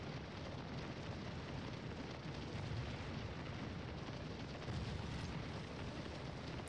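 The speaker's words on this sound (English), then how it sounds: "I hear some artillery firing canister." Distant Civil War artillery firing canister in Scourge of War: Gettysburg, heard as a low, continuous rumbling roar of booms and battlefield noise, fairly faint with no voices.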